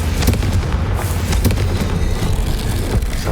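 A Confringo fire-blast spell bursts in the Hogwarts Legacy video game, a loud, dense explosive roar that fills the whole moment with a few sharp cracking peaks and no talking.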